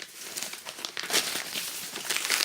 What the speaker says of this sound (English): I'll just see if I can pull this paper off.